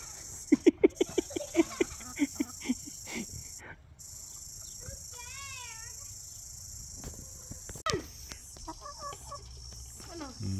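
A free-range chicken clucks in a quick run of short, sharp calls near the start, followed by quieter scattered clucks and a brief high warbling call, heard close by outdoors.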